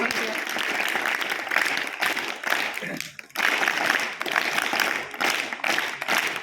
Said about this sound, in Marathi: टाळ्या वाजवून आभार